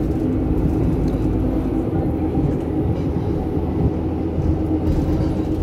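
Steady low rumble and road noise from inside a moving bus in Bursa, a continuous drone with no talk.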